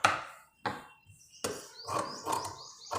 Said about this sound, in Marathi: आता हा जो भाग आहे ना आतला तो कट करून घेऊ।